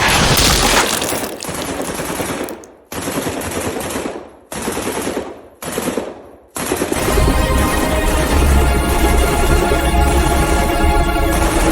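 Bursts of heavy automatic gunfire crackle in several long volleys broken by brief silences, then a sustained roar of shooting continues, loud and close in a combat scene.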